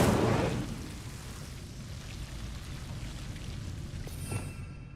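The Incendio fire spell is cast in Hogwarts Legacy, giving a sharp, loud whooshing burst of flame up front that settles into a low crackling, rumbling burn, with a brief bright flare near the end.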